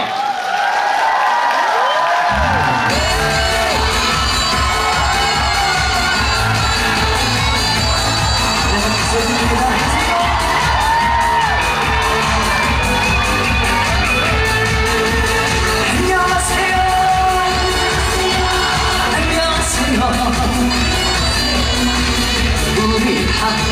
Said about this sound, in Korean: 큰 박수로 만나보겠습니다